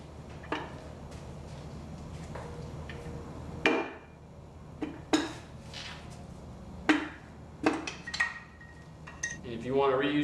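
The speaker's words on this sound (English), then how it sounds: "use the hammer and knock it down." Sharp metallic knocks of a hammer driving a stuck piston and rod out of a Nissan KA24DE engine block during teardown, several separate strikes spaced irregularly, close and loud, with quieter clinks of parts between.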